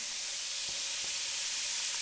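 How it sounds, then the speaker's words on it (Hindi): Two cups of semolina frying in hot cooking oil for puri halwa, a steady loud hissing sizzle that holds evenly throughout, with faint soft stirring touches underneath. "कुकिंग ऑयल अच्छे से गर्म हो चुका है। अब इसमें हम 2 कप सूजी शामिल कर देंगे।"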